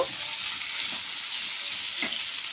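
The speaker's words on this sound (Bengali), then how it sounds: "টমেটোটাকে দিয়ে আবারও একটু নেড়ে চেড়ে নেব।" Potatoes and chopped raw tomato for a parshe fish curry fry loudly in a pan, a steady close hiss and sizzle with soft scrapes of stirring.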